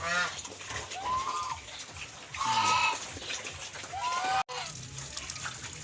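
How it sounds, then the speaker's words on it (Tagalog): Domestic geese on a Philippine farm honk in several short, nasal bursts spread over a few seconds, moderately close, with general farmyard background noise and no talking. "So ayan yung aking mga alagang gansa mga kaprobinsya."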